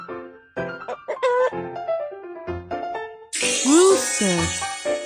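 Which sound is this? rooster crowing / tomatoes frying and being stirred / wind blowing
rooster crowing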